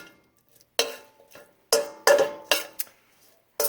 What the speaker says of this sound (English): we're going to stir this around just a little bit more